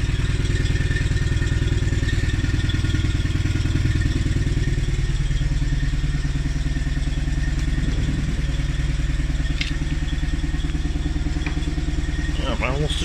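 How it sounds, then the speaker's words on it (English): A small Invacar invalid carriage engine runs steadily throughout with a rattling, putt-putting idle, fairly close, with faint clatter and occasional voice-like sounds over it. "what a lovely sounding little engine this is"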